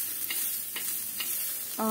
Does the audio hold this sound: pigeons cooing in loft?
no